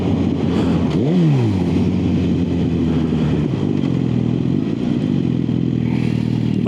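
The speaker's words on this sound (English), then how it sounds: "we're on a liter bike, meaning we're not really going to be changing gears very often" A liter-bike motorcycle ridden on the A388 road between Tamar Bridge and Callington gives a close engine note that swoops up and back down early on, then hums along steadily with some clatter.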